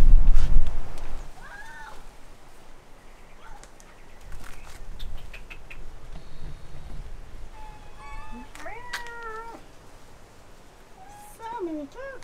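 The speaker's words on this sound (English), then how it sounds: "So many cats." Several cats meow in short, rising calls over a noisy outdoor background, with a few clear cries around the middle and another near the end; people talk in between.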